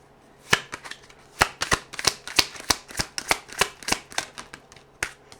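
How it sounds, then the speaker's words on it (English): Thick tarot cards riffle-shuffled in a rapid run of sharp, loud snaps and flutters, close up with brief pauses between bursts and no voices. "Sorry about the loud shuffle. These cards are loud and noisy"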